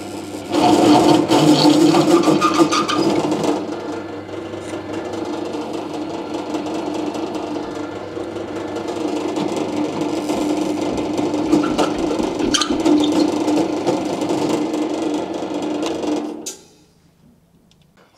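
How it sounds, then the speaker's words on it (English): Step drill opening up a 13 mm hole to 14 mm in stainless steel brake line hardware, a steady loud grinding whine that runs without a break for about sixteen seconds and then cuts off. "I'm going to carefully open it up with my step drill, hopefully without destroying it."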